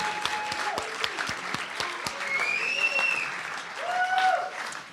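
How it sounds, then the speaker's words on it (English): Moderate crowd applause at an indoor meet-and-greet event, steady clapping with scattered whoops and whistles rising over it, fairly close and continuous throughout. "can we have a round of applause for the Proud Boys if we had any?"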